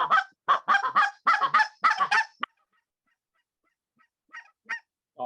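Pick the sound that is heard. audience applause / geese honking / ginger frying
geese honking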